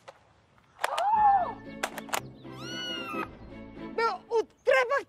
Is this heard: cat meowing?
yes